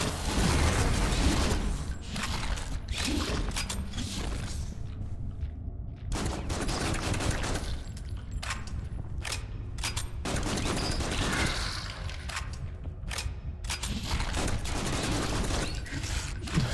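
Sustained gunfire in the shooter game Killing Room, loud rapid bursts of automatic shots with brief pauses between volleys, mixed with mechanical clacks and ratcheting.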